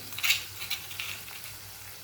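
Dal is stirred in a hot pan for prasad, giving soft sizzling with a few brief scraping stir sounds, close and fairly quiet.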